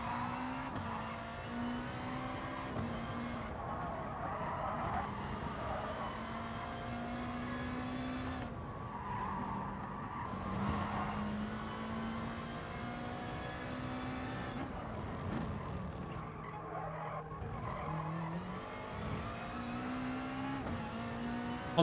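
A Gran Turismo Sport GR.3 race car laps Laguna Seca in a steady engine drone, pitch climbing and dropping through gear changes with occasional tire squeal, loud and continuous with no talking.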